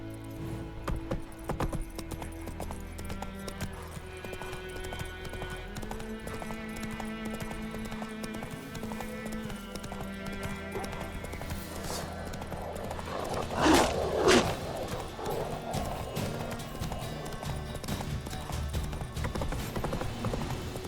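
Horse hooves clip-clop steadily in The Witcher III video game, a faint walking rhythm under game music, with a brief louder burst partway through.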